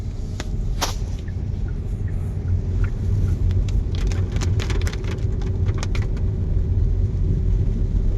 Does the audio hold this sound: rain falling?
yes